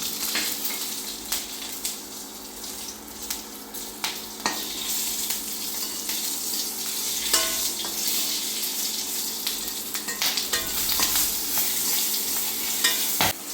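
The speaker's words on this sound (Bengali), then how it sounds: "এখন আমি কয়েকটা শুকনা মরিচ একটু ভেজে নেব, সঙ্গে দেব একটা কাঁচা মরিচ" Dried red chillies and a green chilli fry in oil in a Bengali home kitchen, a continuous close sizzle with scattered pops and clinks over a busy hiss, no voices.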